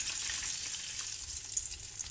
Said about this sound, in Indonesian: bisa kita goreng di api sedang di minyak yang udah panas